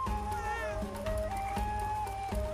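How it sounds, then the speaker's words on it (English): Cat meows from the video game Kena: Bridge of Spirits play over game music, soft and somewhat distant. A steady melodic tone and background score run throughout. "I can hear a cat."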